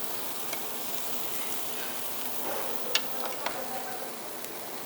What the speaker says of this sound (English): I want to add a little bit of that vegan, the vegan oyster sauce so that we get really nice caramelized mushrooms